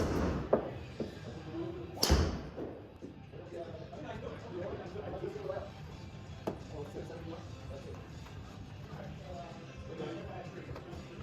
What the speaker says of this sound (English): Why don't we go inside, hit some balls in the simulator